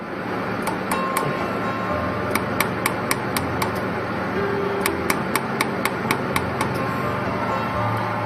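A jewelry laser welding machine welding a piece of steel, producing a series of sharp, regular clicking pulses in two quick runs over a steady background hum.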